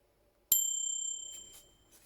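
A single bell is struck once, a bright ringing tone that sustains and slowly fades over about a second and a half, with faint soft noises afterward.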